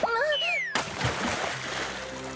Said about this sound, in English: her axe fell into a fountain